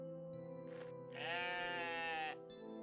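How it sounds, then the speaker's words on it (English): A sheep in the video game OneShot gives a single drawn-out bleat over a steady hum of background music, clear and alone. "Is this sheep sound only in mono?"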